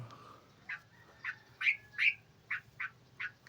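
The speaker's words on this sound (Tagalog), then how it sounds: "It's a bird." A bird gives a run of short, bright squawking calls, about eight notes in a loose rhythm, close but fairly soft, with no talking over them.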